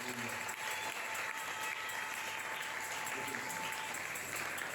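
A church congregation claps for a pastor, a dense, continuous wash of applause from many hands filling the room at an even level throughout.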